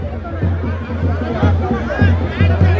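Close, steady hubbub comes from a packed crowd at the Bastar Dussehra festival, with many overlapping voices and some nearer people talking.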